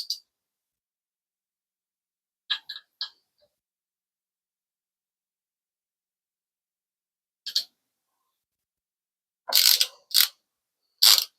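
A torque wrench tightening a Burris Eliminator scope mount gives a few sharp ratcheting clicks in short separated bursts, close and crisp, with long silent gaps between them.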